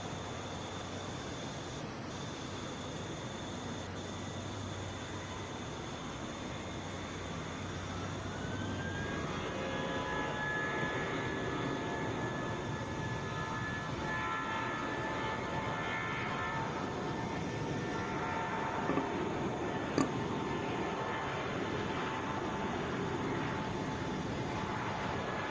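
A United Airbus A320 airliner taxis at Atlanta airport, its steady broadband engine roar and rising whine building gradually and holding at a constant distance throughout, with no voices.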